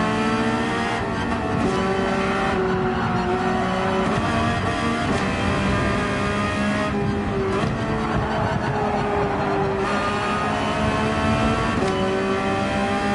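Race cars on Mount Panorama in Gran Turismo 7 rush past, their engines droning and rising in pitch with several passes over a steady, loud bed of motor roar.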